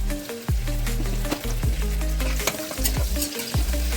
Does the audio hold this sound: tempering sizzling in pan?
yes